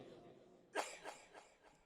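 A single faint cough breaks out, followed by a few softer trailing bursts, heard alone against quiet background at a gathering.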